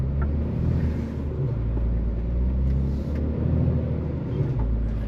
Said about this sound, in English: Right, there's a couple of cars come through.